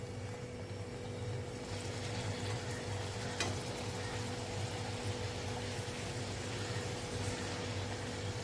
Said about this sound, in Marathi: एका साईडने चांगले असे फ्राय करायचे आहेत, नंतरच पलटी करायची आपल्याला.